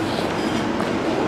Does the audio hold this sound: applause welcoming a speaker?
no